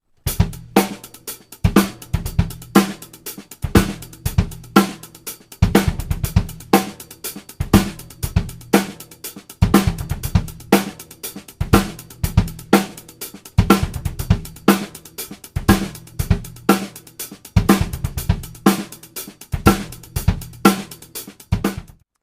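Drum kit groove with the right hand playing a broken 16th-note pattern, dense repeating hits with punchy kick and snare accents, loud and steady over about twenty seconds with no talking.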